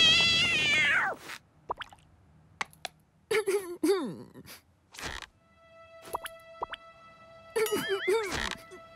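A cartoon cat meows repeatedly in short, bright, rising and falling cries, separated by brief gaps and punctuated by cartoon sound effects and music, clear and close.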